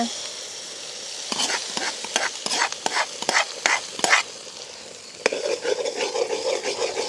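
Egg frying in oil in a pan with turkey berries in a village kitchen, scraped by a spatula in a run of sharp, rhythmic strokes before a steady, close sizzle takes over.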